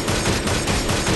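Rapid bursts of automatic gunfire in the futuristic battle-royale game Cyber Hunter, a dense, loud, continuous volley of shots with no voice over it.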